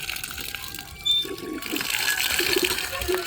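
Water gushes steadily from a newly dug well, a continuous wet rush that grows fuller toward the end, with people talking over it.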